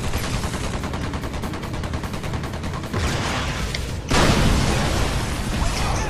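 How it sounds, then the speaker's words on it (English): Dense, continuous gunfire from the Earth Defense Force: Insect Armageddon video game, rapid bursts layered into a loud fusillade with a heavier surge near the end, no voices over it. "Oh my god, my own gun shot me."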